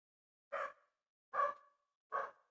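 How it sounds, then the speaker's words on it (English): A dog barks indoors, three separate sharp barks spaced under a second apart, fairly close and moderately loud, with no talking around them. "sorry about the dog. The barking dog."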